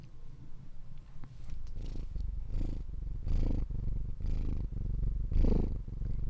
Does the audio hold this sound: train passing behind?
no